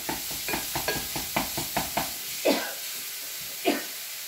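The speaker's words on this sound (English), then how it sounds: "Now this good Jimmy Dean sausage, it doesn't have a lot of fat." Jimmy Dean sausage frying in a pan while being stirred, a soft sizzle under a regular series of scraping spatula strokes, then two slower louder scrapes, close up with no talking.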